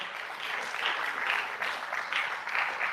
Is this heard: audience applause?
yes